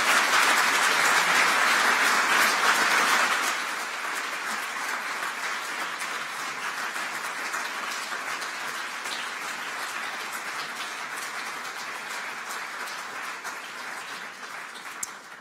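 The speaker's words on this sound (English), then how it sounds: "Applause for you." An audience applauds at the end of an economics lecture in Vienna. Dense, loud clapping fills the room at first, then thins to quieter, scattered claps that fade out.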